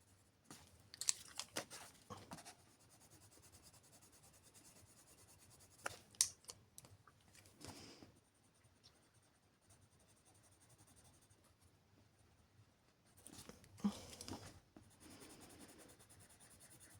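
Prismacolor colored pencils working across paper, giving quiet scratchy strokes in a few bursts separated by long near-silent gaps, close and fairly faint.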